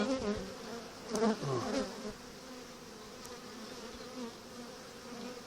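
Inside a beehive, a young queen bee pipes in a few short, tonal bursts early on. The bursts rise above a continuous low buzzing hum of the colony.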